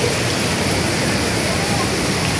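Rushing floodwater churns around Manila City Hall as a dense, steady wash of broadband noise, close and continuous with no clear break.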